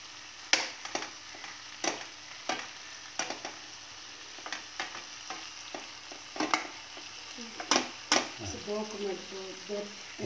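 Thin, round potato slices frying with capsicum in a pan, a soft sizzle broken by repeated sharp scrapes and clacks of stirring, close up. A brief voice-like sound comes in near the end.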